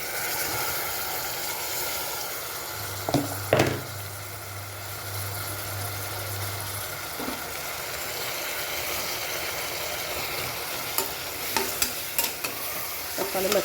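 Chopped onions, tomato and green chili sautéing in a pan make a constant close sizzle, with occasional stirring scrapes and a brief low hum early on.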